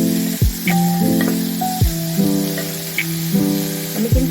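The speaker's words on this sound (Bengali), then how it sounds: "এগুলো একটু ফ্রাই হবে।" Vegetables frying in oil for chicken soup give a steady, loud, close sizzle, broken by a few brief metallic tones and scraping stirs.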